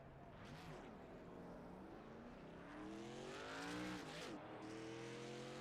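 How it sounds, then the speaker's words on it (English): A race car rolling out onto the speedway during Las Vegas qualifying, its engine droning and rising through several gear pulls with harmonic whine, distant and steady under a faint crowd or broadcast wash. "So he'll roll out onto the speedway."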